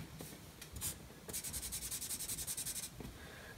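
Pen or marker strokes drawing small hoof marks on paper during a unicorn illustration, a few quick scratches followed by a rapid run of about a dozen rhythmic rubbing strokes, close and fairly soft, with no talking.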